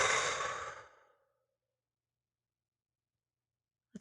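One audible, breathy mindful exhale fades out over about a second, followed by near silence and a faint brief sound at the very end.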